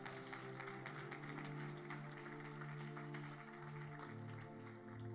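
Applause from a church congregation during a sermon, steady and faint in the distance, with a sustained tonal backdrop of music or voices underneath.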